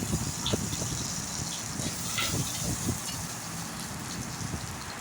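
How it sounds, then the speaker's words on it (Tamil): Spices sizzling and spluttering in hot oil at the start of a beetroot chutney, a steady dense crackle with scattered sharper pops throughout, close and fairly loud, no talking. "கொஞ்சம் எண்ணெய் ஊற்றி இதெல்லாம் முதல்ல எண்ணெயில் போட்டுக்கலாம்"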